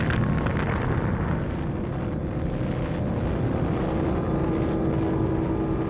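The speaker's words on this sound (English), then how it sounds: "the first atomic bomb was detonated" A huge atomic bomb detonation, the first ever, packing the force of about 20,000 tons of TNT, rolls as a loud, continuous roaring rumble with dense low-end energy that holds steady throughout.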